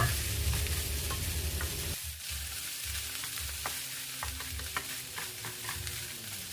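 Kimchi fried rice with spring onions is stirred in a hot pan, with a steady sizzle and frying hiss under scraping spatula strokes that briefly drop out and then continue, close and alone.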